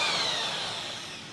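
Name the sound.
power drill mixing liquid plastic to a milky consistency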